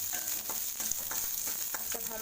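Onion sautés in a pan as a constant hissing sizzle, overlaid with light, regular scrapes of a stirring spoon, close and steady throughout without any voices.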